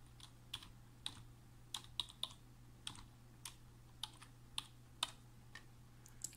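A password is typed on a computer keyboard as a sparse series of quiet, separate key clicks with uneven spacing, over a low steady hum.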